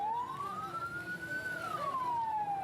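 An ambulance siren wails from a vehicle stuck in a road blockade by trucks, a single long rising then falling tone over steady traffic noise, fairly close and clear.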